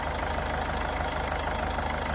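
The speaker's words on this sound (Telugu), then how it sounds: "engine noise, engine light noise కూడా అసలు రన్నింగ్లో పెద్దగా నాయిస్ ఏం లేదు" A Toyota Etios petrol car engine idles steadily, a continuous even mechanical hum with faint ticking, close and unchanging throughout, with no voices.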